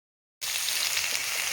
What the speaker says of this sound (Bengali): আলু ভেজে নিতে হবে।